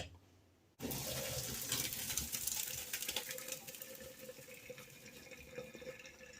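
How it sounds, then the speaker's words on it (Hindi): Water from boiled rice is poured off into a sink, starting abruptly with a loud gushing splash that continues strongly and then gradually thins to a lighter trickle. "अब जल्दी से पानी निकाल देते हैं।"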